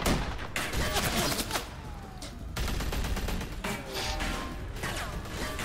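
Gunfire crackles in the video game The Walking Dead: A New Frontier, rapid volleys and bursts of shots rolling on continuously with brief lulls, loud and close, with battle clatter underneath.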